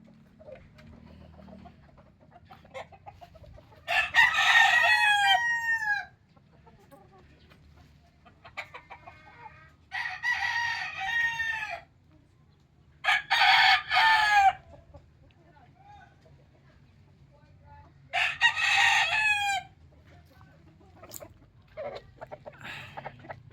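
A gamecock rooster bought from a farm crows four times at intervals, each crow loud and drawn out, over a low steady background hum.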